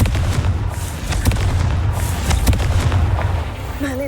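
Confringo fire spell explosions in the Hogwarts Legacy video game, a rapid series of sharp blasts and bursts over a low rumbling game background.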